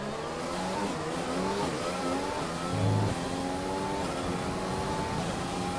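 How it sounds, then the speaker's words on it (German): Formula 1 race car in the F1 2020 video game at the Canada circuit, a loud continuous engine whine that climbs in pitch through gear shifts, steady and close with no talking. "Dann gebe ich mal ein bisschen Gas jetzt."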